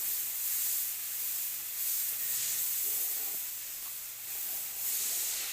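A fine airbrush hisses in soft pulses of spray, a steady breathy hiss close by that rises and dips without any talking.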